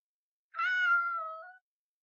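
A cat meows once inside a video game, a single drawn-out, clear mew lasting about a second that rises and then trails off, heard alone against silence.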